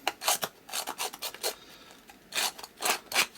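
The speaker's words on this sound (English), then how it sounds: "I'm just going to scruff down a couple of the edges" Edges of a Halloween craft piece are scuffed down by hand: about a dozen short, dry rasping strokes in quick uneven bursts, close up, with no one talking.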